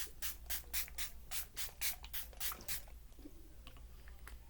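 A rapid series of short hissing sprays of makeup setting spray, about a dozen quick bursts in a row, close up, then a few soft rustles.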